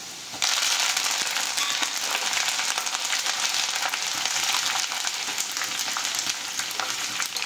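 Dried red chillies torn into pieces and curry leaves crackle and sizzle loudly in hot tempering oil for a mango chutney, a dense continuous spitting hiss that bursts in suddenly and holds steady to the end, with no talking.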